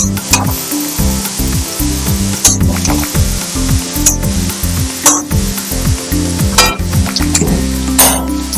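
Masala with prawns and jackfruit being sautéed in a pan, loud close sizzling with repeated rhythmic stirring scrapes and occasional metallic clinks of the spoon against the pan, no talking.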